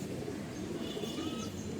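Racing pigeons paired up for breeding coo softly and steadily, a low, quiet, continuous murmur close by with no talking.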